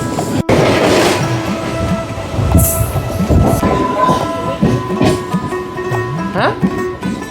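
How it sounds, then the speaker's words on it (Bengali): A local train on the Howrah–Digha line rolls into Ramnagar station, its wheels clattering loudly over the rails with brief squeals and rumble throughout, while people talk nearby. "এখন আমাদের ট্রেন ঢুকছে"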